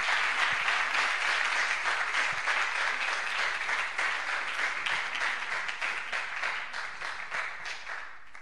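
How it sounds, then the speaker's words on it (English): An audience at a retro computer game development awards ceremony applauds steadily, a dense, sustained clapping that fills the room and slowly tapers toward the end, with no talking over it. "we give him a big, great applause"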